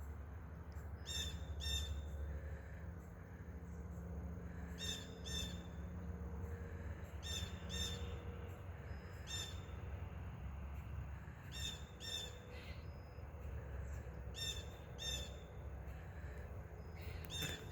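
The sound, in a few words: birds calling during a walk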